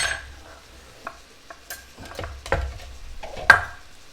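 Skate wing cooking in a cast iron pan, a quiet low sizzle broken by scattered clinks and scrapes of a utensil against the pan, close and sparse, with no talking.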